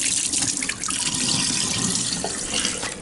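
Water draining from a WonderWash portable washing machine through its spout, a steady close splashing pour that runs continuously without pause, with no voices.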